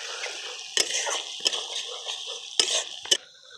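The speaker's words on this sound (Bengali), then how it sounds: "আদা রসুনের কাঁচা গন্ধটা যাতে না থাকে সেরকমভাবে ভেজে নিতে হবে।" Onion frying with ginger paste and chopped garlic for a fish curry gives a close, hissing sizzle, with four or five sharp scraping strokes of a spatula against the pan.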